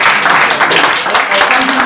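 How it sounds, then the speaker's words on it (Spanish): A crowd claps for a teacher at a gathering, dense, loud applause running continuously and close. "otra vez un aplauso para el maestro"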